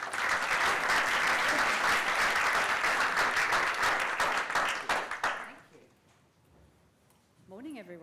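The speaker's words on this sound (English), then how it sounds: "Round of applause, please." An audience at a UX conference talk gives a loud, sustained round of applause that stops abruptly after about five seconds, followed by quieter room sound and the start of a voice.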